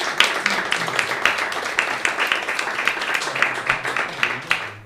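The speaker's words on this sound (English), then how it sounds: "Can we have another round of applause?" Round of applause from an open mic audience, brisk continuous clapping from a small room that carries on evenly for several seconds, with faint murmuring beneath.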